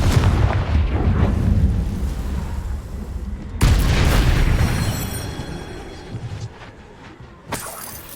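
A Confringo blasting spell goes off in Hogwarts Legacy, giving a loud, rumbling explosive burst followed by a sharp crack and shattering debris that fades away, then another abrupt hit at the end.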